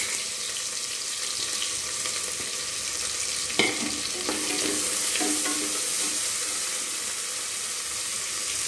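Finely chopped medium onions frying and being stirred in a pan for a Chettinad-style chicken gravy: a steady close sizzle with a few sharp utensil clacks and scrapes midway, no talking.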